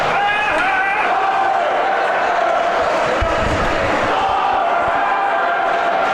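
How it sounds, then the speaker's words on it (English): Crowd at a junior hockey game between Oregon and the Rogue Valley Royals chants a player's name, a rhythmic roar that carries throughout, with a few sharp thuds midway and an announcer talking over it. "A Connor Hacker chant I hear?"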